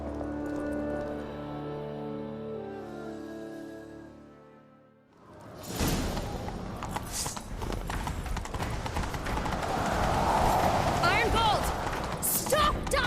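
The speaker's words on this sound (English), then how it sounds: "Grab a horse, we'll chase him down." A horse gallops in The Witcher 3, its rapid clip-clop hoofbeats beginning abruptly after a musical passage and driving steadily and close up under rushing ambience, with brief voice sounds mixed in.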